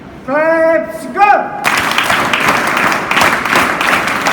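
At an inauguration ceremony for a scout training camp, an audience breaks into sustained, dense applause that begins abruptly after a short sung or spoken tone and carries on loudly to the end.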